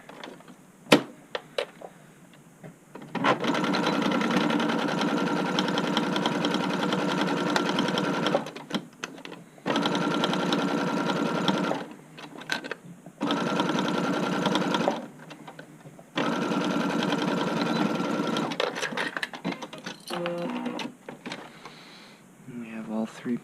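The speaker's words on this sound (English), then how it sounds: "Hop back to our sewing machine again. And again, we're just going to hit it with a straight stitch." A sewing machine runs a straight stitch while joining the yoke pieces and front panel of an upcycled button-up shirt, with several long steady motor bursts separated by short pauses and light handling clicks between them.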